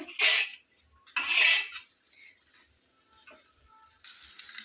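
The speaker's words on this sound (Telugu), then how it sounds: "బెండకాయలను కట్ చేసి ఇలా ఫ్రై చేసుకున్నాం అనుకోండి, ఆయిల్ లేకుండా" Cut okra pieces fry in a pan without oil, heard as two bursts of bright hissing and scraping stirring, then quieter clinks and a renewed steady sizzle, close and without talk.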